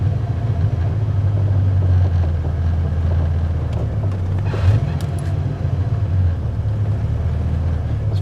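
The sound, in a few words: Ford 5.0 engine idling, clutch eased in first gear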